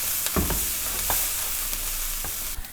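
Chopped onions sweat in a pan with a pinch of salt for a one-pan creamy Dijon chicken, giving a soft steady sizzle broken by a few light stirring scrapes, close and moderate in level.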